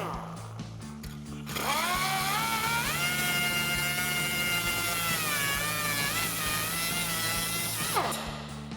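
A power tool cuts through rusted exhaust clamps on a RAM 2500 pickup, a loud steady high-pitched whine with wavering tone running for about six and a half seconds after short bursts of clatter.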